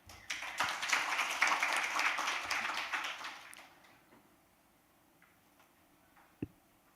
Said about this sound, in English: Please join us in giving her a warm round of applause.